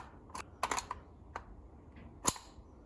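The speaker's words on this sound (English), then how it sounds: "make sure to put it in at an angle and rock it forward until it clicks" Magazine being seated into an AK gas blowback airsoft rifle: a handful of sharp, close metallic and plastic clicks spaced irregularly, ending in a louder final click.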